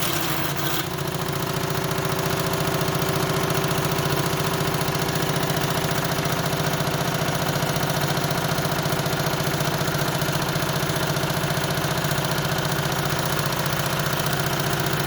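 A Wilesco D32 toy steam engine runs steadily, giving a loud, even, rapid mechanical chuffing and whirring with a constant hiss that holds the same pace throughout, close up and without voices.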